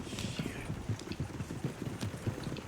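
Horse hooves clip-clop at a steady walking rhythm in Red Dead Redemption II, close and moderately loud, with a faint voice in the background.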